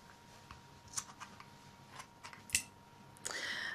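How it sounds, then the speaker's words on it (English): A few small, crisp scissor snips trim the end of a silk beading string up close, spaced irregularly in a quiet room, ending in a brief rustle of handling. "Now, I'm just going to trim off slightly the end here."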